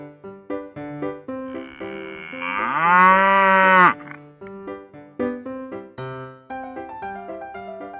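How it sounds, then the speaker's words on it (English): A cow moos in one long, loud, drawn-out call rising in pitch, preceded and followed by bright melodic music notes, with no talking over it. "Cow."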